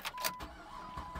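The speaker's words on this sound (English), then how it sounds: "Car started." A car engine cranking and starting on a winter day, a short burst of rough mechanical turnover that settles into a low idle, heard from inside the vehicle at moderate level.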